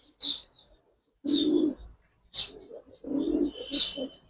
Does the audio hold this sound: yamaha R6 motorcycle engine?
no